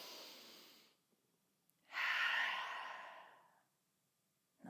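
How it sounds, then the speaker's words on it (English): A deep cleansing breath in a prenatal yoga session: a soft inhale, a pause, then a long, loud open-mouth exhale that slowly fades, close to the microphone, with no speech. "One more cleansing breath."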